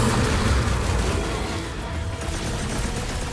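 Fireworks exploding in the video game Marvel's Guardians of the Galaxy, a dense, continuous roar of overlapping booms and crackles, loud and steady throughout with no talk.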